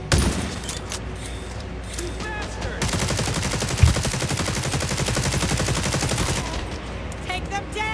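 PP-19 Bison submachine gun firing in The Division video game, rapid continuous bursts with a long sustained stream in the middle, loud and close, with shorter spurts before and after.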